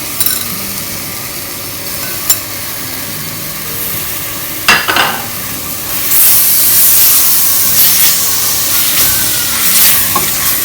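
Washed squid is tipped into a hot pan for a Kerala-style roast, setting off a loud, steady hiss and sizzle with a few sharp clinks and rising spitting partway through.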